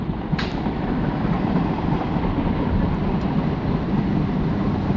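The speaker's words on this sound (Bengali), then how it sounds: "উপরে রেলের ব্রিজ প্লাস নিচ দিয়ে ট্রেন যাচ্ছে" A train rumbles past nearby beneath a bridge, a steady low roar of wheels and carriages that holds evenly for several seconds with no voices.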